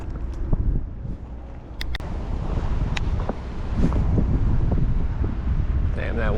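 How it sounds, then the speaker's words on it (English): Wind buffets the microphone on a small fishing boat on a river, a steady low rumbling roar with faint water sounds underneath and occasional knocks. "That wind is blowing us, guys."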